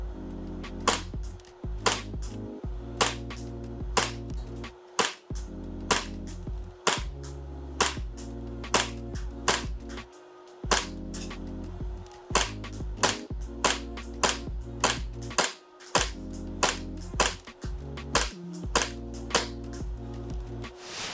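An MKW-15K Kizuna Works airsoft replica pistol, running 110 PSI and 0.25 g BBs, fires a long string of sharp, close shots on an indoor range, some in quick pairs and some spaced by short pauses.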